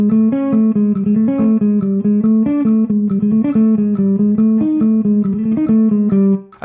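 Electric or clean guitar plays a steady chromatic exercise, switching between eighth-note and sixteenth-note runs, each note distinct and close, with no talk over it until it stops at the end.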